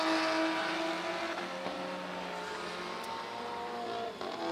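Touring race cars, including a four-wheel-drive Audi S4 Quattro, roar around a Riga circuit on a warm-up lap, with engines revving and passing at middle distance and a brief tire squeal.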